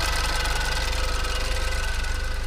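A rebuilt BMW engine with new injectors idles steadily close by, a continuous low rumble with a faint rhythmic knock throughout, no voices over it.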